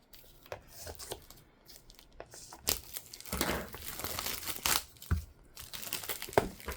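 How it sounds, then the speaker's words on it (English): Plastic packaging is cut and handled up close, with irregular bursts of crinkling and crackling, a few sharp snips and rustles, growing busier and louder toward the end. "I just have to cut the plastic"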